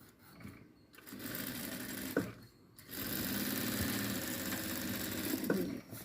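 A sewing machine stitching a patchwork blouse, running in a steady mechanical whir in two stretches separated by short pauses, close and fairly quiet with no talking.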